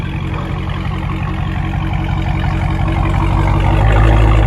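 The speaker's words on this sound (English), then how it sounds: "let us rev it a couple of times if you don't mind" Dodge Challenger Hellcat with a 6.2L supercharged Hemi V8 and muffler delete, heard close and loud as a deep, steady rumble that swells into a heavier rev near the end, with no voices.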